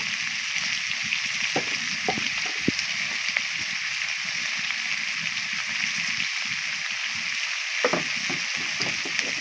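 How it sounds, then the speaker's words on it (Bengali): Chopped green chilies fry in hot oil for hotel-style taki fish bharta, a soft, steady sizzle running throughout with occasional light clicks and stirring taps. "এগুলো ভেজে নেব"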